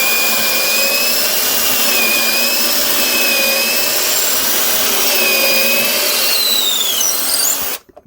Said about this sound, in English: I'm going to use this tight fitting drill bit to heat my stuffing tube up